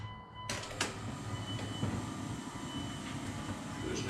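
A 2001 24-valve Cummins diesel engine cranks briefly and catches, settling into a loud, rough, steady idle close by.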